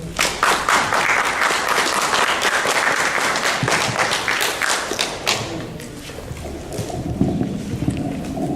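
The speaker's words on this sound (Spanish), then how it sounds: "Recibanmoslo con un fuerte aplauso, por favor." Loud, dense audience clapping welcoming a speaker to a machine-learning lecture, sharp individual claps running for about five seconds before thinning out into a quieter room hum with a few scattered taps.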